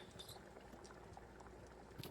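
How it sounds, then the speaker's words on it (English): An ASMR elixir of powder dissolving in lunar water crackles and fizzes softly and continuously at close range, with faint liquid bubbling throughout. "Gently crackling, dissolving."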